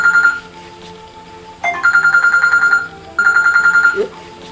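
A mobile phone rings with a repeating electronic ringtone in two loud bursts separated by a short gap, with faint background voices.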